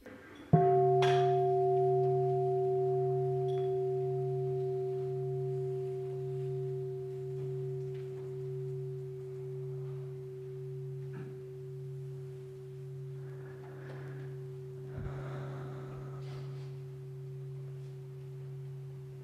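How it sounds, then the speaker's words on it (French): A mindfulness bell struck once near the start, its clear sustained tone ringing out and slowly fading across the whole stretch, alone with no talk over it. "On a la cloche."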